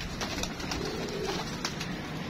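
A pigeon cooing in a low, soft burble against steady broadband outdoor noise, fairly close.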